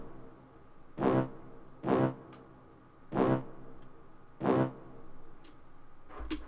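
Trap beat with brass hits landing on the 808: four short, punchy stabs spaced about a second apart over a low sustained bed, loud against a quieter background.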